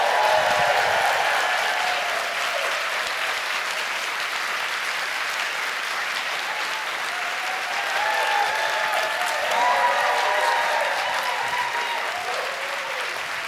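A conference audience claps and cheers for changemaker Bethany Handley in dense, sustained applause, with whoops rising near the middle and end.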